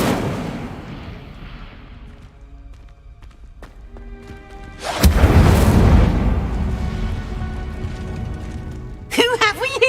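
An Incendio fire spell is cast in Hogwarts Legacy, a sudden whooshing burst of flame that roars for about a second after quieter game sounds. A voice speaks briefly right after it.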